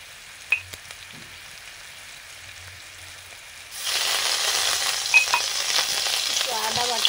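Salt-and-turmeric-coated shrimp dropped into a pan with black cumin seeds: after a quiet stretch a dense sizzle bursts in and continues steadily, close and without talk.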